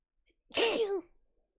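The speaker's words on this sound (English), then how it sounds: "Am I gonna sneeze? I feel like I might." A single sharp human sneeze, a quick inhaled lead-in followed by one loud burst that trails off in a short breathy tail, alone against near silence.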